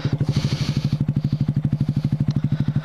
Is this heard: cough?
no